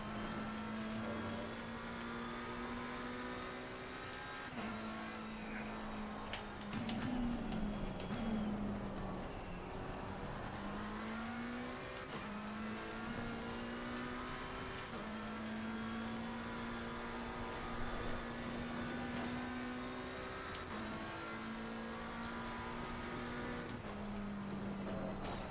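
A racing-game car engine drones steadily through an outlap, its pitch climbing and dropping with gear shifts and throttle changes, loud and continuous with no talking.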